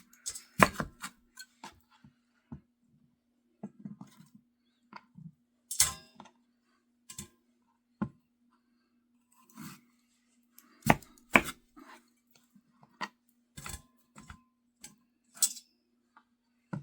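A knife chops through sweet potatoes on a cutting board, quartering them in sharp, sparse, irregular thuds, close and crisp with quiet gaps between cuts.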